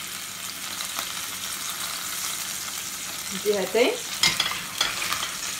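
Lamb shanks sizzle and are stirred in a pan, a steady frying hiss with a burst of louder spattering and scraping near the end, and a brief word spoken.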